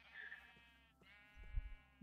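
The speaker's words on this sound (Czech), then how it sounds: "ty ovce mě utekly" Sheep in a heavily modded Minecraft world give two bleats in quick succession, close and clear, with a faint low thump near the end and no talking.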